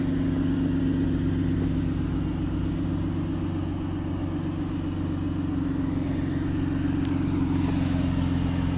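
A 2015 Chrysler 200 with a 3.6-liter Pentastar V6 and dual chrome exhaust tips idles nearby, giving a smooth, steady low hum with no revving and no talk over it.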